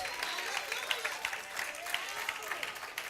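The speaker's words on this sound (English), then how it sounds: "Clap your hands and give God some praise" Church congregation clapping hands in praise during a sermon, a continuous crowd of hands with some voices and vocal cheers rising over it, moderately loud and steady.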